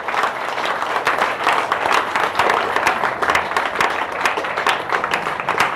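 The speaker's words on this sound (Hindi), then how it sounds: "इसके लिए मैं चाहूँगी एक बार जबरदस्त ताली होनी चाहिए।" Audience applause at an indoor gathering: many hands clapping together in a dense, sustained burst, loud and close, with no voices rising above it.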